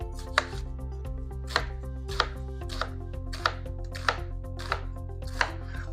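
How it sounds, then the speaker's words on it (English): An onion is sliced with a knife on a board for a cheesy potato gratin, about ten crisp, evenly spaced chops up close, each a sharp tap on the board, with no talking. "And then we will slice the onion as we go."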